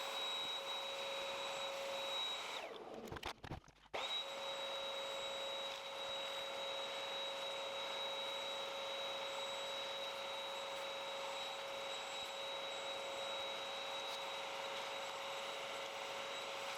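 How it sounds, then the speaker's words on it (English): A vacuum cleaner hoovers out an old Mini Kinzo bandsaw with a steady, loud whine and rush, briefly muffled and dipping once near the start before running on evenly. "So let's hoover it out and clean it up, I think."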